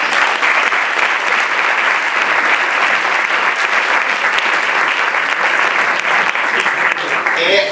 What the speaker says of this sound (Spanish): vamos a pedir un aplauso para ella, Elsa.